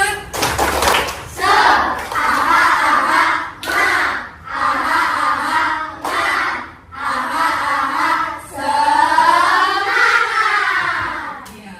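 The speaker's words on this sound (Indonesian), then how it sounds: "Ayo kita tepuk semangat dulu biar gak tegang" A classroom of schoolchildren performs a rhythmic clapping chant together, bursts of sharp hand claps alternating with chanted voices in a steady pattern, loud and close, with a brief pause between phrases.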